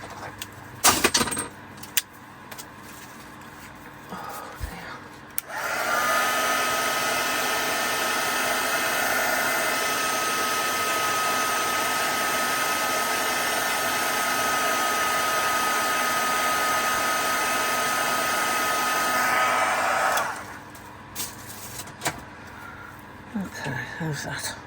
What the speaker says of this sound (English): I think I need to warm my resin up a bit, so I'll get my heat gun out.